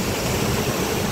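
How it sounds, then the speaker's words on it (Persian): Water rushes continuously at the Khorshan springs in Bagh-e Rostam, a loud, steady broadband roar with no breaks and no talk. "آب و هوای عالی، چشمهای خروشان،"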